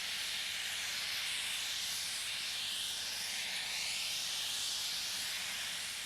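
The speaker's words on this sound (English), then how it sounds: "the locomotive builds up steam" A steam locomotive on the Rovos Rail line, standing at a sunny station platform, builds up steam with a continuous, even hiss that stays at a moderate level throughout, with no voices.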